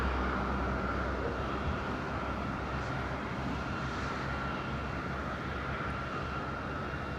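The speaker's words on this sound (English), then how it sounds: "Here he comes, EasyJet, the orange machine." An EasyJet airliner approaching Madeira Airport gives a steady, broad jet roar that holds at an even level throughout, with no talk.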